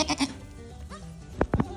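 Goats on a farm of about 25 animals bleat in a few short, wavering calls, the clearest cries bunched together near the end, fairly close and loud against a quiet background.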